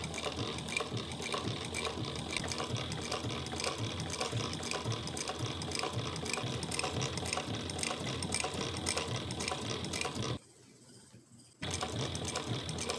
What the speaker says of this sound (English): Right here I'll just go ahead and sew a leather wallet together.